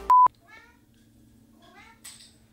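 A cat meows indoors, giving a couple of soft, drawn-out meows after a sharp electronic beep, fairly close and moderately quiet against a faint background hum.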